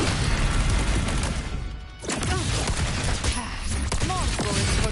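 Dense, continuous video game gunfire, a nearly unbroken stream of shots and blasts at loud level with a short dip around two seconds, overlaid with game sound effects and occasional talk.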